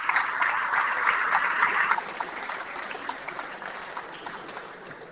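A crowd at a football club's trophy celebration applauds a physiotherapist, steady clapping that is strongest for the first two seconds and then softens but continues to the end.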